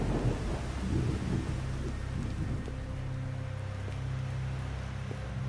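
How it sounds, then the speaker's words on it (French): Thunder rumbles low and heavy through a steady rainstorm at night near a boat, the rolling boom loud at first and then settling into a continuous wash of rain. "Oh le tonnerre."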